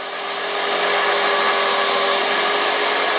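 A power washer runs while being primed to fill tractor tires with ballast, a loud steady motor whine with a constant tonal hum that ramps up briefly at the start and then holds, with no talking.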